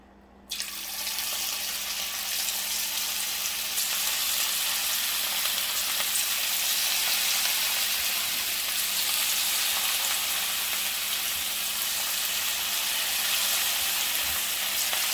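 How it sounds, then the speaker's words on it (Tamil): Cauliflower florets dropped into hot oil for crispy cauliflower 65, bursting into a loud, continuous hissing sizzle that starts abruptly and holds steady throughout, with no voices. "நம்ம இப்போ காலிஃப்ளவர் இதில் போட்டுடலாம்."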